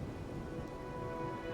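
Rain falls steadily in the Wuthering Waves video game, a soft, even hiss of drops with no pauses and no voices.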